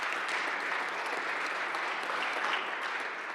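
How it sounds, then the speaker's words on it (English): An audience at a Cleveland City Council meeting applauds in a steady, dense burst of clapping that holds evenly throughout without any talking. "Let's give her a round of applause"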